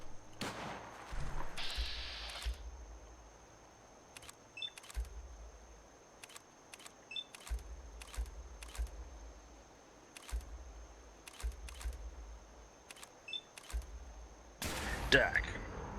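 Repeated sharp gunshots from the Fallout 4 video game, a dozen or so evenly spaced bursts over a low rumbling background, with a louder blast near the end.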